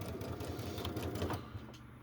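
A sewing machine stitching fabric for a Batman-inspired bag, a fast even mechanical chatter of needle strokes that runs for a second and a half then stops, close and fairly quiet.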